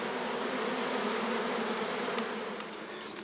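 Honeybee swarm with a young queen flying into a bucket, a dense, steady buzzing drone of many bees close by that continues throughout.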